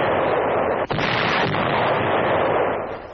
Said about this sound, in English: From Strasbourg, Nazi positions across the Rhine are shelled.